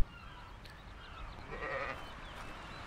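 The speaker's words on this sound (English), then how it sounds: "I do have sheep. Can I interact with the sheep?" A sheep in the video game Arcania gives a single faint, wavering bleat over a low ambient game backdrop.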